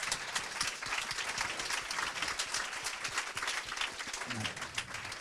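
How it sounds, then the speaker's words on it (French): A studio audience claps steadily for several seconds, a dense, even wash of applause with no break and a brief murmur near the end. "Je propose qu'on les applaudisse."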